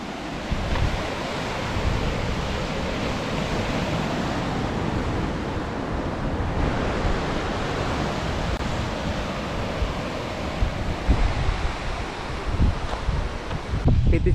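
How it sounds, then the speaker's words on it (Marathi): Steady roar of surf at Ganeshgule beach with gusting wind buffeting the microphone, a broad continuous rush that rises and falls in waves throughout. "वारा सुद्धा खूप आहे हा बघा गणेश समुद्र"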